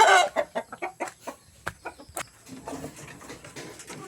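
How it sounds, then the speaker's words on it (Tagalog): Backyard chickens being fed on a farm cluck in a quick series of short, close clucks and squawks, fairly quiet, thinning out toward the end with faint background rustling. "Kumusta kayo mga manok?"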